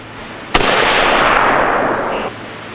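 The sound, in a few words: AR-15 rifle shot with Double Star bullseye muzzle brake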